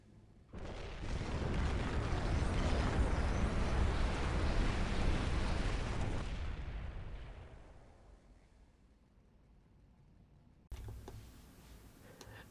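Huge nuke and melter strike explosions called down from the sky in the Dawn of War strategy game: a loud, sustained roaring blast that slowly rumbles away, then a sharp second burst near the end, with no voices.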